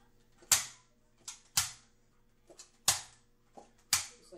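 A Nerf Hammer Shot pullback toy blaster firing, giving four sharp plastic snaps spaced about a second apart. Each is preceded by a softer click of the hammer being cocked, close and loud in a quiet room.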